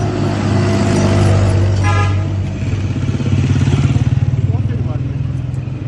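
A government car's engine drones loudly close by as it drives, with a horn-like tone and rattling clatter, while people talk over the vehicle noise.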